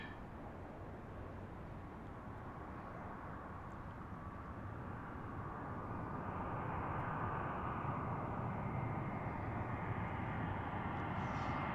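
Jet airliners arriving and departing at Washington's Reagan National Airport, heard from Gravelly Point as a steady, rumbling engine roar that swells louder partway through and holds, with no voices.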